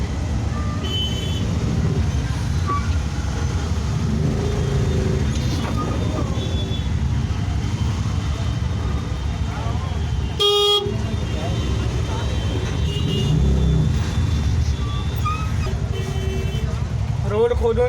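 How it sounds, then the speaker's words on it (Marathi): Traffic jam at Malad station in Mumbai: a steady roar of engines and street noise, with car horns honking, one sharp loud blast midway, and people talking throughout. "ट्रॅफिक जाम करतात मला स्टेशनवर"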